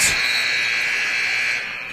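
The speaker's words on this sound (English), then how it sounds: "At the buzzer" End-of-game buzzer at a 1A high school boys basketball championship game, one loud, steady electronic tone sustained for about one and a half seconds before cutting off.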